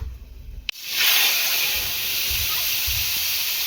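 Sour lentil dal made with tamarind is poured into a hot pan, bursting into a loud, sudden sizzle that settles into a steady, hissing steam.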